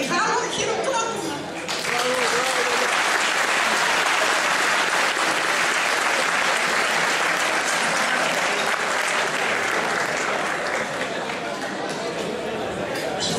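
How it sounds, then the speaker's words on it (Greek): Loud, sustained applause from an audience at a club's pita-cutting celebration in Arcadia, honoring the club president; a brief voice opens before dense clapping fills the room without pause. "Και την πρόεδρό μας να της δώσουμε ένα μεγάλο χειροκρότημα."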